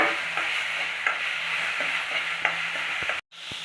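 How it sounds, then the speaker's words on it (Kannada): Onion, garlic and tomato fry in oil in a pan for sambar while a spoon stirs them, giving a steady close sizzle with soft regular scrapes and taps and a short break near the end. "ಇವಾಗ ಎರಡು ಟೊಮೆಟೊ ಇದ್ದೀನಿ ಇದನ್ನು ಒಂದು ನಿಮಿಷ ಫ್ರೈ ಮಾಡೋಣ"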